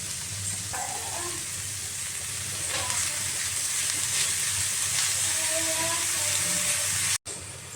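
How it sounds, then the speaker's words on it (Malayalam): Food sizzles steadily as it is fried and stirred in a pan, with a constant hiss and occasional soft scrapes of a spoon against the pan, close and fairly loud, ending in a brief cut. "ഇനി ഇത് നന്നായിട്ടൊന്ന് മിക്സ് ചെയ്തെടുക്കണം"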